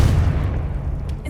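A Confringo blasting spell explodes in Hogwarts Legacy with a heavy, close, low boom that rumbles and slowly decays over about a second, followed by faint small crackles.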